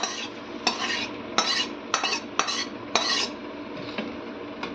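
Sautéed greens being added to a pot of lentil dal and stirred: a steady low simmering hiss broken by several sharp metallic scrapes and clinks of a spoon against the pot, close and fairly loud, with no talk.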